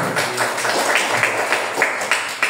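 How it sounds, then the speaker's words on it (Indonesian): A group in a workshop session claps for themselves, the hands striking in a quick, roughly even rhythm of sharp close beats that carries on throughout. "tepuk tangan untuk diri"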